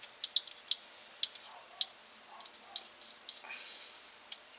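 Screws are driven into a Harley Sportster CV carburetor during a rebuild, giving a quiet, close series of irregular sharp ticks and ratchet-like clicks with no voice.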